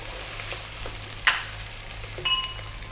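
Tomatoes frying over high heat in a pan for an Indian chicken curry give a steady, soft sizzle, with a sharp clink near the middle and a brief stir-like scrape toward the end.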